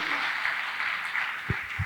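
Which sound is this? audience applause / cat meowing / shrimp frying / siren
audience applause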